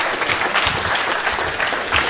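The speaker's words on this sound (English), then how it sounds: "Give him a round of applause," Audience applauding a volunteer picked from the crowd, a dense, loud burst of clapping from many hands filling the whole moment.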